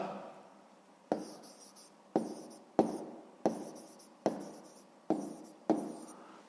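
Pen writing a math answer on paper, seven sharp scratchy strokes in a steady rhythm, each starting with a tap and trailing off, close and fairly quiet with no talking.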